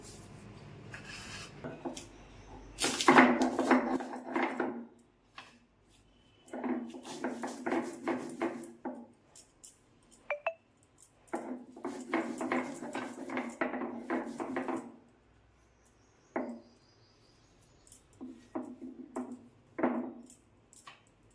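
Fried chillies, garlic and salt being ground together by hand, heard as bursts of coarse rubbing and scraping strokes in rhythmic runs separated by pauses, with occasional sharper knocks, close and moderately loud.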